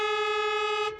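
A long, steady car horn blast held for about a second at a crossroads while a learner driver is being taught, loud and close, cutting off at the end.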